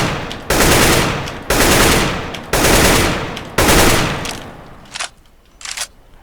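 Rifle fire in CS:GO rings out in four loud, evenly spaced bursts, each sharp crack fading into a long echo tail, followed by a few quieter, more distant shots.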